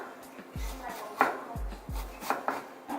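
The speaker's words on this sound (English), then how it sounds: "Now time to chop." A knife chops an onion finely on a cutting board, giving quick, close, distinct knocks in uneven bursts against a quiet background, with no talking.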